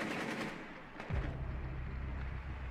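A single heavy shotgun blast in the stealth video game Styx: Shards of Darkness booms out close and loud, trailing into a low rumbling decay with no talking over it.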